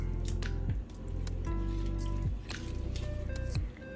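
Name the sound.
milk being poured into a bowl for cinnamon roll batter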